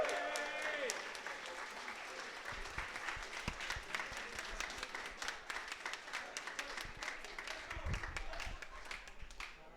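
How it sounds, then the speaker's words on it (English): An audience at a Regen 2022 tournament gives a big round of applause for the player Luugi, sustained clapping lasting throughout, while a voice talks over it. "Can we get a big round of applause for Luugi?"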